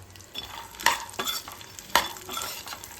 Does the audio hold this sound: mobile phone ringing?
no